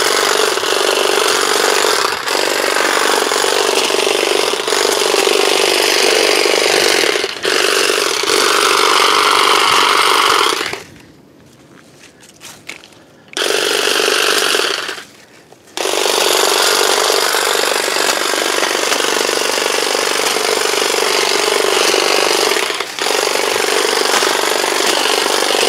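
A powered string trimmer runs with the trigger held down, a loud, steady high-pitched whine chewing through vegetation, briefly dropping out twice midway before resuming at full power.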